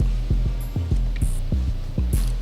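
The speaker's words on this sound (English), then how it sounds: "it's the air conditioner on" Air conditioner running in the background, a loud low hum with a regular thudding pulse repeating roughly every half second, steady throughout.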